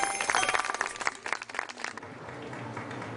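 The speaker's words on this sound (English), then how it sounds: "The applause means one or 2 things." Applause from a crowd at a Grosvenor Hotel wedding reception in Torquay: a dense burst of clapping that thins out after about two seconds into a quieter room murmur.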